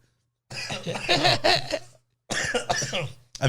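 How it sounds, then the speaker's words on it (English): Two rough, throaty coughing fits close by, separated by a brief pause. "Yeah, that was a cough."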